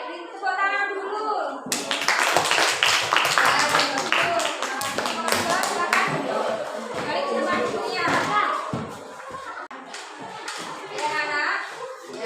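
Pupils in a classroom clap together on cue, a burst of lively, irregular clapping among children's voices, with a teacher speaking at the start and some chatter and tapping afterward.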